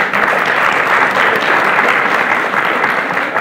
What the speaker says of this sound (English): so can we have a big round of applause for her?